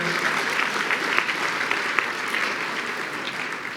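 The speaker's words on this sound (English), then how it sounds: "Let's give our school board members a round of applause for their hard work and their efforts and for being here." An audience at a regional scholar awards ceremony gives school board members a round of applause, dense and steady clapping holding throughout with a few louder individual claps.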